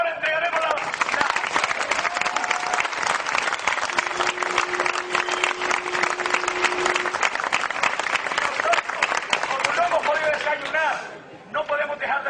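Applause from a crowd at an outdoor memorial ceremony in the Canary Islands, sustained dense clapping that carries on for many seconds before thinning out, with a voice briefly heard over it.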